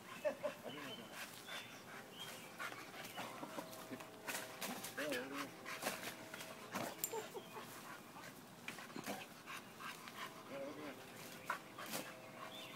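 Dog sounds mixed with lively talk, with scuffling, panting and short yips close by over a busy, cluttered background.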